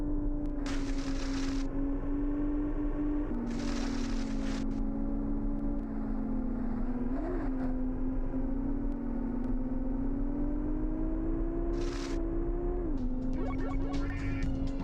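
A black Porsche in the Porsche Challenge video game drones with a steady engine whine, its pitch rising and dropping with gear changes, joined by occasional bursts of tire screech or hiss throughout.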